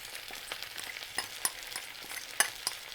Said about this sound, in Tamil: மூணுத்தையும் சேர்த்து நல்லா கிண்டிக்கலாம்